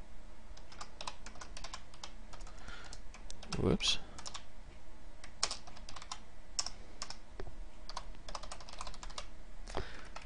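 Rapid typing clatters on a computer keyboard, with irregular bursts of key taps close by and a brief spoken exclamation partway through.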